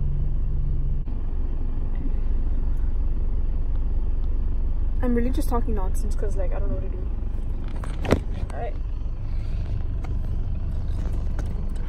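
A steady low engine and road rumble fills the inside of a car creeping slowly through traffic, heard under a person talking.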